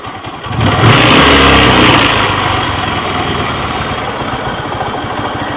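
A Kawasaki LS 135 motorcycle engine is revved during carburetor tuning: a loud close burst of revving, then a slowly falling, rough idle.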